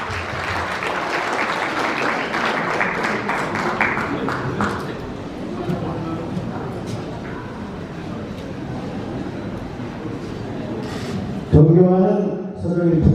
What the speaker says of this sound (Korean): 여러분 큰 박수로 맞이해 주시면 고맙겠습니다.